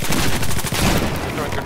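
Battlefield 4 multiplayer gunfire on the Golmud Railway map in Rush mode: a loud, dense stretch of rapid automatic fire and overlapping shots, continuous for under two seconds.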